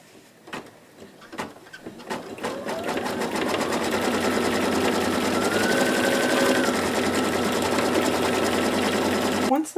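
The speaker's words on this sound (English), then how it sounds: "then you start to stitch the next stitch" Embroidery machine stitching a tack down stitch on an apron, starting with a few clicks and then settling into a steady, rapid mechanical whirring hum that runs nearly to the end before stopping.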